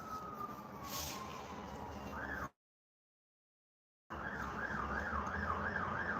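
An emergency vehicle's siren wails faintly in the distance, its rising and falling tone audible over background noise before a sudden dropout, then returning with a quicker repeating warble.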